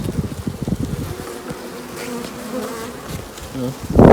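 Calm honeybees buzz steadily and close at the hive during a spring hive inspection, a dense droning hum with a few louder passes, no voices.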